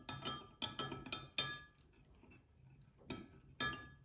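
Coleslaw dressed with white vinegar is tossed in a bowl, giving repeated close clinks and taps of a utensil against glass. The clatter comes in uneven bursts with a short quiet stretch in the middle.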